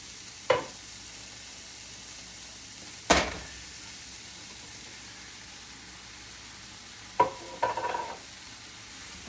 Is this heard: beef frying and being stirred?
yes